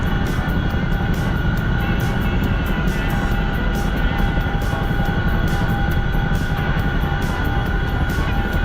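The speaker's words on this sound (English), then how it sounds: "the new module is the Chinook, which I'm trying to figure out right now" Chinook helicopter engine in a combat flight game, a loud steady rotor and turbine roar with a constant whine running unbroken throughout, no voices.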